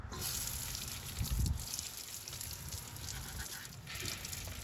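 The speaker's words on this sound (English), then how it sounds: "You pre-soak this with water." Water being sprayed from a hose to pre-soak the engine bay of an Acura RSX, a steady faint hiss and splatter with brief louder bursts as the stream hits surfaces.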